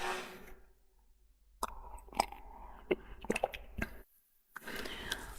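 Someone drinking water, with several close, quiet sips and gulping swallows separated by short silent pauses.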